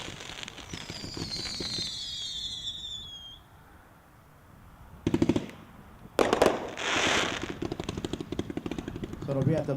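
The Miracles Happen finale fireworks cake goes off at a dealer show, with whistling rising tails, then loud crackling bursts and rapid popping salvos after a quieter gap.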